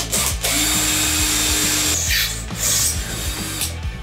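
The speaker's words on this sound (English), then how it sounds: "now that the holes are drilled" A power drill bores holes through a reclaimed scrap metal shovel, a steady close whine with rhythmic ratcheting pulses underneath and a brief pitched squeal partway through as the bit bites the smooth steel.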